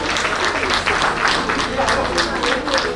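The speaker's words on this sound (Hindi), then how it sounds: "आपकी जोरदार तालियों के बीच" An audience at an award ceremony claps loudly in sustained, dense applause, with a voice speaking over the clapping.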